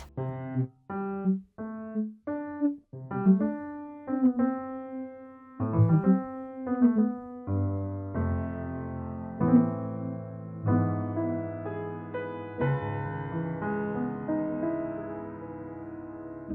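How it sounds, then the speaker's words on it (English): Sampled 1928 Steinway grand piano notes ring out one after another, each decaying with a soft plucked, fretted-sounding release taken from a 1975 Gibson guitar, building into sustained chords with no talking. "what you're hearing is the sustain and attack of a 1928 Steinway with the"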